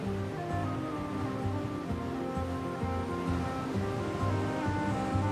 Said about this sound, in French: Cette Méditerranée dont les vagues dessinent et sculptent la côte